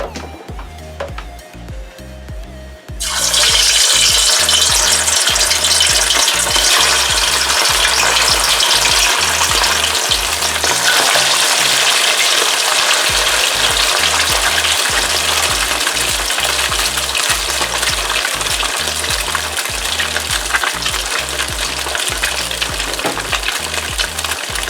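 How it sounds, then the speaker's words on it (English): Loud, steady sizzle of king mackerel frying in hot oil, a dense crackling hiss that sets in after a quiet start and runs on without talk. "So I'll start frying now."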